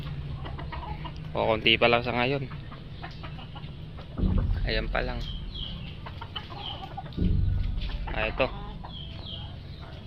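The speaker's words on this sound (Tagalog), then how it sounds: "Ang manok natin sa ating backyard." Free-range backyard chickens cluck in bursts, close and fairly loud, while someone talks in Filipino between and over the calls.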